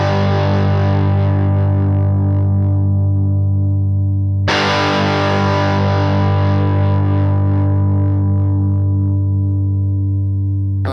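An electric guitar chord through a cranked amp model on a Tone Master Pro rings out thick and distorted, sustaining loudly, then is struck again midway and left to ring with a dense, buzzing low end.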